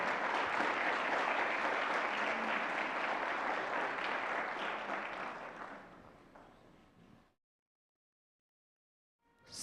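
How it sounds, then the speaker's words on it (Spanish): Applause from a Baptist church conference audience, dense and steady for about seven seconds before fading out to silence, with a brief swell returning at the very end. "Aplausos."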